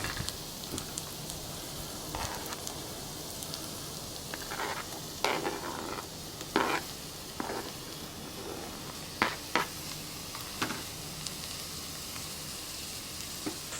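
Spam frying in a camp cooking pot gives a steady, close sizzle, punctuated by scattered clicks and clinks of a utensil against the pot over about fourteen seconds.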